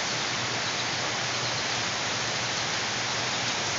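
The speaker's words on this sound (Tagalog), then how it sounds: "Ay, ulan oh." Steady rain falls outdoors, a dense, continuous hiss of drops at constant loudness with no gaps and no voices.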